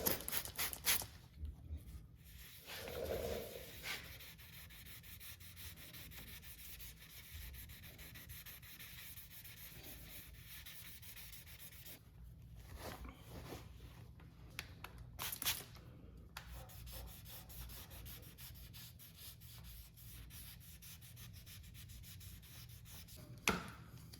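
Steady, soft rubbing strokes of sandpaper wet sanding car paint continue close by, with a few louder scrapes and brief pauses, no voices.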